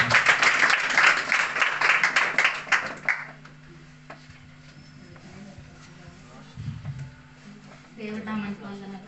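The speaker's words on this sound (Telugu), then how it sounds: "ప్రతి ఒక్కరు కూడా చప్పట్లు కొడుతుంటారు" An audience at a December 2024 PYPA church meeting claps briskly and loudly for a few seconds, then the applause fades into a quiet room where a voice speaks over a low hum.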